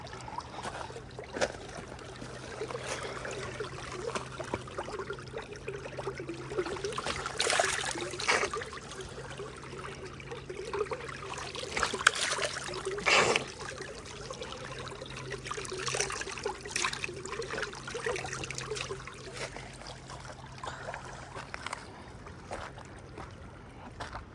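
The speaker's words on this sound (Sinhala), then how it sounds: "මේ තියෙන්නේ ඇල. මේක එන්නේ උල්පත් වතුර." Water from a spring-fed stream on a mountain trickles and gurgles steadily, a continuous close burble with occasional brighter splashes and a faint low hum underneath.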